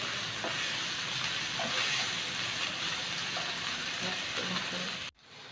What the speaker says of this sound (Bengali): মশলাটা ভাজা ভাজা হয়ে গেছে